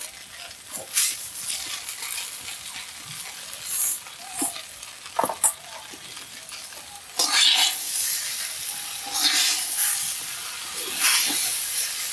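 Chalta (elephant apple) fruit for pickle sizzles and hisses in a hot pan, with bursts of stirring and scraping that grow louder and busier toward the end.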